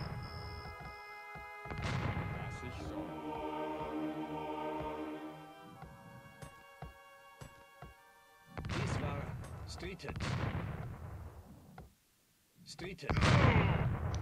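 Units in Age of Empires II open fire with booming, cannon-like blasts in bursts, mixed with game music tones and someone talking over parts of the action.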